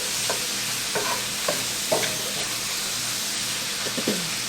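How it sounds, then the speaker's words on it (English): Shrimp cooks in a hot pan with a constant soft sizzle, broken by a few sharp scrapes and clicks of a utensil stirring and moving the pieces around. "cook this shrimp up until it is nice and pink and cooked through"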